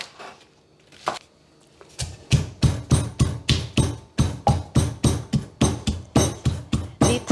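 Knife chopping green onion into inch-long pieces on a cutting board, a few scattered knocks followed by a steady run of sharp, evenly spaced close chops.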